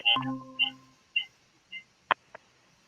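A Google Meet phone call is answered and connects. A brief ringing tone plays first, then a few spaced short beeps and clicks fade out into quiet.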